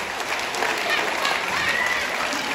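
A crowd at a stage hypnosis show bursts into loud, sustained applause, close and dense clapping throughout, with a voice talking faintly underneath.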